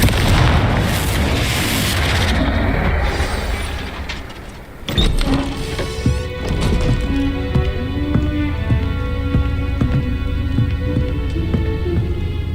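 A Confringo spell explosion in the Hogwarts Legacy video game: a loud rushing whoosh builds, then a sharp blast hits, followed by rumbling debris and lingering tonal game sounds.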